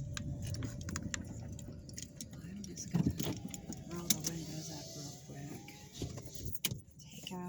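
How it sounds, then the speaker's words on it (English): Keys jangling and clinking in short bursts near a parked car, with rustling, door and handling noises around them, while a person speaks at moments. "The keys."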